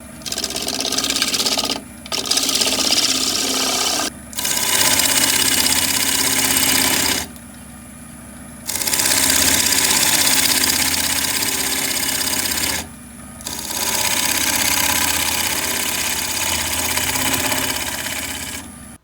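Loud, steady whirring of a lathe with abrasive sanding of a yew bowl, running in long stretches broken by short pauses, no voices.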